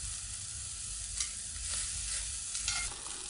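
A filet mignon steak sears in a hot pan, giving a constant hissing sizzle with a few brief louder spits and crackles, close and with no voices.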